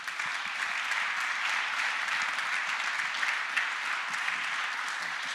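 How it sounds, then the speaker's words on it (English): Sustained, dense applause from a large audience at a talk by Tom Tugendhat MP, steady and loud throughout. "If you could all join me in giving Tom Tugendhat a round of applause."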